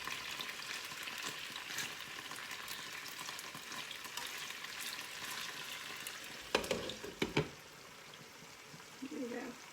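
Steady crackling sizzle of chicken frying in a pan, with a few louder clatters and stirring sounds near the end.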